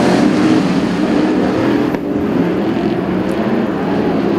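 IMCA modified race cars roar around a speedway at the start of a heat race, a dense, loud, continuous engine drone from the pack filling the air without a break.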